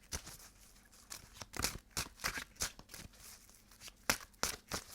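Tarot cards being shuffled by hand during a reading, a series of quick papery riffles and taps in irregular bursts, close and fairly quiet.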